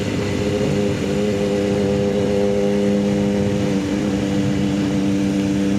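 A Triumph motorcycle with an Aero exhaust, catalytic converter removed and stock mufflers, idles steadily with a deep, throaty burble, constant in level and close by, with no voices.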